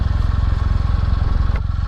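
A 2019 Kawasaki W800 motorcycle engine braking on a ride, giving a steady, loud, close-up, rapid pulsing throb that stays even throughout with no speech.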